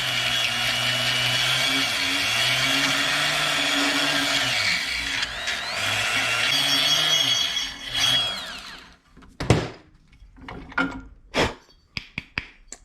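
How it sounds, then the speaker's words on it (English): A Goped Big Foot engine's flywheel is buffed with a Scotch-Brite pad on a stick, a loud steady whirring abrasive drone with tonal harmonics for about eight seconds, then several sharp scraping bursts and clicks. "Buff it on down with this."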